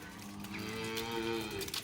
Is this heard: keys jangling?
no